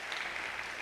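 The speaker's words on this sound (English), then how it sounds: "Clap for yourselves." Students applaud themselves at a school event, a brief wash of even, steady clapping heard alone.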